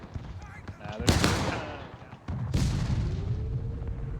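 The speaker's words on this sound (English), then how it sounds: "CSA artillery is coming real close to finding its mark there" Confederate artillery firing in a Civil War battle game, two heavy cannon blasts about a second and a half apart, each followed by a long rumbling roar, loud and close amid battlefield noise.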